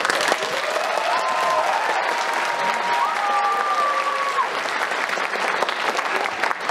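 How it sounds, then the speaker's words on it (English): Sustained applause from a live audience at a jazz band's world premiere performance, with cheering and whistles riding over steady, dense clapping throughout. "let's hear thunderous applause when the plane lands"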